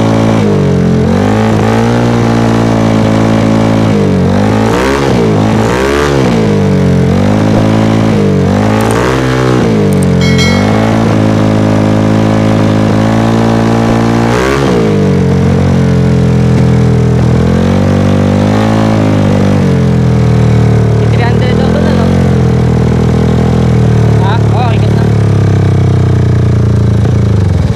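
A Honda Click 200cc scooter with a G-Racing aftermarket exhaust, still in break-in, revs repeatedly, rising and falling in short bursts over a steady rumbling idle, close and loud throughout.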